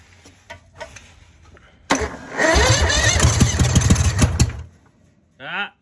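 A small engine on a repowered mini skid steer cranks on its first start, a few quiet clicks, then a loud sustained cranking and sputtering burst of about three seconds that stops abruptly, followed by a brief voice.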